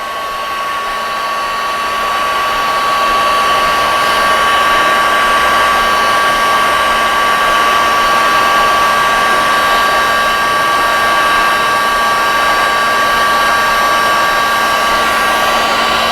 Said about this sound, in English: what I do is I use a heat gun and I heat it up